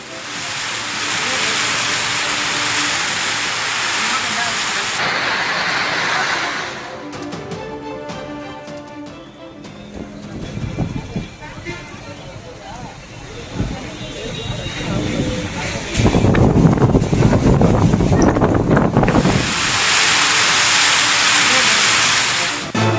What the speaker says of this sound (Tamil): சூறைக்காற்றுடன் பெய்த மழையால் தணிந்தது வெப்பம்.